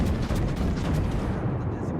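Heavy naval guns of the battleship USS Arizona firing in the World of Warships naval combat game, a dense, continuous rumbling roar of booms and blasts with no pauses, loud and close.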